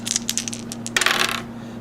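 Plastic dice for the X-Wing miniatures game clatter and tumble in a quick rattling burst of bouncing clicks, then settle, loud and close with no talk.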